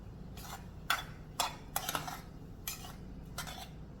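Metal clinks and clanks from a lid being set on a pan of cooking wheat rava semiya upma, six sharp separate knocks spread over a few seconds with a low kitchen hum between them, close by and with no voices.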